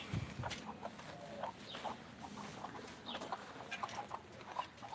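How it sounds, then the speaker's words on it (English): Backyard chickens clucking in a garden, a busy overlapping flock with steady irregular clucks and squawks at moderate distance, no talking. "Oh, look, here's all the chickens."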